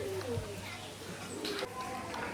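Pigeons coo softly in low, rolling calls, with some brighter bird chirps and a murmur of voices in the background.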